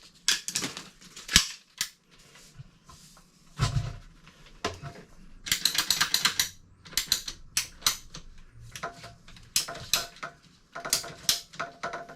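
A sump pump discharge pipe being cut by hand, a run of sharp snipping and ratcheting clicks in irregular bursts with brief pauses, close and fairly loud, with no talking.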